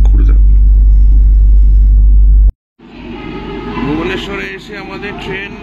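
A train arriving at Bhubaneswar station rumbles loudly with deep low-end drone, cuts out abruptly, then resumes as a rolling clatter with squealing and voices in the background.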